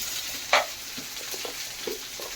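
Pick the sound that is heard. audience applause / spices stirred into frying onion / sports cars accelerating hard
spices stirred into frying onion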